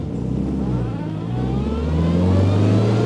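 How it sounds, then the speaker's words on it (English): A 1957 Morgan Plus Four drophead with a 2-liter 4-cylinder engine and 4-speed Moss gearbox accelerates on the road, its engine note rising steadily and loud and close throughout, with no talking. "It's got really good power from its 2-liter 4-cylinder engine, 4-speed Moss box."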